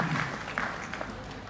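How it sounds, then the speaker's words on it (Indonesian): Applause from the audience at the opening ceremony of the national Qur'an recitation week (Pekan Tilawatil Qur'an), held in a pendopo hall; a brief, fairly steady wash of clapping with a few sharper claps, heard at moderate distance. "Hadirin beri tepuk tangan yang paling meriah untuk Provinsi Sumatera Selatan"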